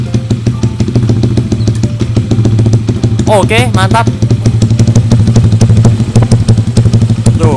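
Yamaha Aerox scooter running a Jackson spec 61 engine build, ticking over with a steady loud mid-pitched putter and irregular gaps, heard up close while someone speaks briefly partway through.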